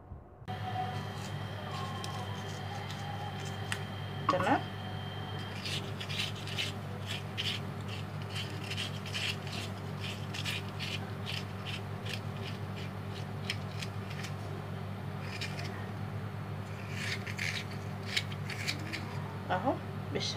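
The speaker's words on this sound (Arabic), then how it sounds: "جبت عندي المقوار بتاع البتنجان والكوسة، وهبدأ كده عندي هقور البطاطسية من جوه" A metal eggplant-and-zucchini corer scraping out the insides of raw potatoes: rapid rasping, scissor-like strokes come in bursts over a steady low background hum, close and fairly quiet.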